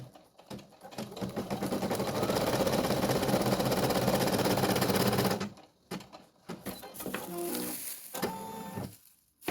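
An embroidery machine stitches on a 13x18 cm hoop, whirring steadily and closely for about five seconds, then stopping, followed by scattered short clicks and mechanical knocks.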